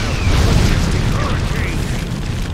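A fire-style jutsu erupts in the fighting game Naruto Storm 4, a loud, rumbling roar of flame with low booming energy that stays dense for the whole few seconds.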